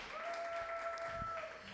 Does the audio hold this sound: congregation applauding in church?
yes